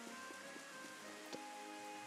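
Rain falls in the video game Rune Factory 5 as a faint, steady patter of drops that continues evenly throughout.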